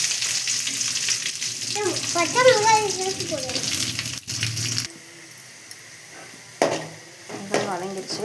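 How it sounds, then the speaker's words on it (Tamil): Onions sizzle and sauté in a pan with stirring scrapes, a steady frying hiss under a woman's speech, then quieter with a few clinks. "வெங்காயம் வதங்கிடுச்சு."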